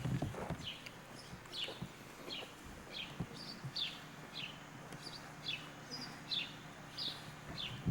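A horse trots around an indoor arena, its hoofbeats falling in an even, steady rhythm at a moderate distance, fairly faint, with light chirps in the background.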